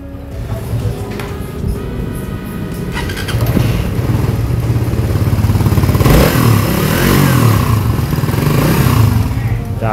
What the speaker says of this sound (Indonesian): Tuh nyala guys. Kita dengerin mesinnya.